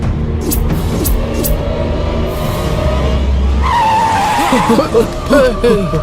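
A car in a movie scene pulling away with tyres skidding and squealing, loud and close over a rumbling engine, ending in chaotic screeching, with some background sounds.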